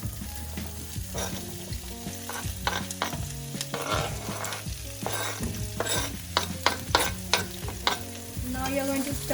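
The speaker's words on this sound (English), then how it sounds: "I'm going to add the onions to the oil." Two chopped onions fry in hot oil, a constant close sizzle broken by repeated scraping stir strokes of a spoon against the pan, fairly rhythmic throughout.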